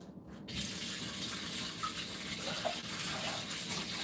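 Tap water running steadily into a sink while seafood for étouffée, including blue crabs, is rinsed, a continuous splashing gush, close and moderately loud.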